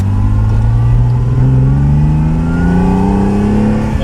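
A Dino 240 GT's engine revs up close, its pitch climbing smoothly and steadily in a rising sweep, loud and alone with no voices.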